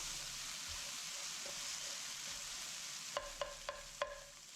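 An egg fries in a little oil with a soft, steady sizzle. Near the end a few sharp clicks follow one another, as if a utensil taps the pan.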